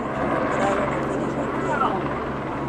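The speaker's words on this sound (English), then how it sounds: "maybe that's an EPA chopper" A helicopter flies overhead above a city neighbourhood near Belmont and Narragansett, a steady, fairly loud rotor and engine drone holding for a few seconds.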